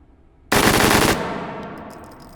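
A military rifle fires a fast full-auto burst of about two-thirds of a second in the H3VR VR shooting game, loud and close, with a long echoing tail and faint clicks afterward.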